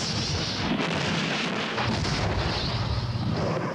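Artillery shells and bombs fall on Beirut's Palestinian-inhabited districts during the siege, a dense, continuous rumble of blasts and booms at moderate distance, rough and unbroken across the short stretch.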